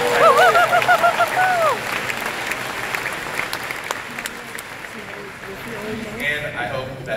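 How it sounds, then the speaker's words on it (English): A Comic-Con panel audience breaks into sustained, loud applause filling the hall, with whoops and a voice briefly rising over the clapping before it thins toward the end. "I want you all to give yourselves a round of applause"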